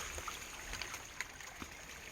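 Running water trickles and gurgles steadily at low volume, with small splashes and drips popping out of a soft, continuous rush.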